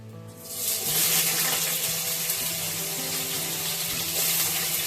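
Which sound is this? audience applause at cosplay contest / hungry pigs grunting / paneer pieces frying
paneer pieces frying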